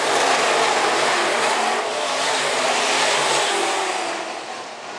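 Modified race cars roar around Phillips County Raceway in a loud, sustained engine drone, the pack running close together with a slight fade toward the end.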